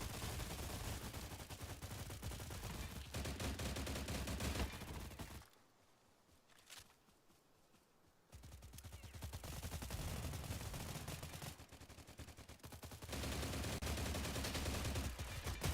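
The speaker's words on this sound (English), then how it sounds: "Who was shooting me in the back?" Dense automatic gunfire in the video game STALCRAFT, loud sustained bursts that break off for a few seconds in the middle and then resume, with a firing line of many players shooting at once.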